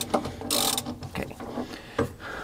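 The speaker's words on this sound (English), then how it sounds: "I sure do love these extendable wrenches" An extendable ratchet wrench clicks in short bursts while it turns a fastener during a car pulley seal replacement with the fan belt off. The ratcheting is close and moderately loud, with several separate runs of rapid clicking.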